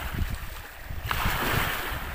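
Fairly large waves slap against a small wooden outrigger boat (bangka) on a lake, with a steady rush of water and wind buffeting the microphone. The sound grows fuller and brighter about halfway through, and there is no talking.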